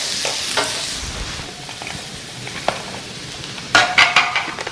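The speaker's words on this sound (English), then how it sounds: "saute the sliced shiitake mushrooms for a few minutes" Sliced shiitake mushrooms and onions sauté in a pan with a steady close sizzle and stirring scrapes, then a brief burst of utensil clinks near the end, no voices.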